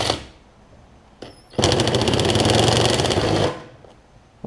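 An impact driver on a Briggs & Stratton Nikki carburetor rattles loud and close in one sustained burst of about two seconds, loosening its delicate screws, with quieter clicks of handling before and after.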